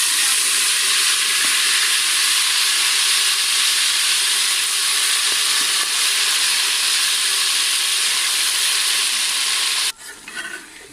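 Chicken feet frying in oil in a cooking pot, a loud steady sizzle with hissing steam that runs unbroken for about ten seconds before cutting off.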